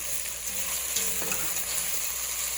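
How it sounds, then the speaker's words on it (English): Beef browning in a pot for a noodle soup, a steady soft sizzle and crackle of frying meat with a brief stir in the middle, close and alone without talk. "this has been browning for about 5 or 6 minutes"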